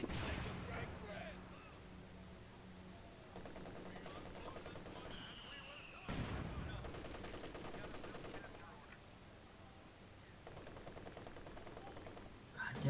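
Machine gun fire in the World War II strategy game Company of Heroes 2 sounds as faint, distant sustained bursts and rumbling gunfire in the background. A sharper crack lands midway.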